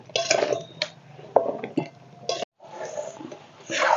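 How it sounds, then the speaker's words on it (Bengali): Fried gaja pastries are stirred through sugar syrup in a metal kadai, with a spatula giving intermittent clinks and scrapes in uneven bursts, a brief pause, then more scraping close by. "এখন এই চিনি সিরাপটার মধ্যে দিয়ে দেব এই গজাগুলো দিয়ে নাড়তে থাকবো"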